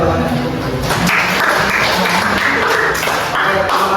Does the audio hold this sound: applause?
yes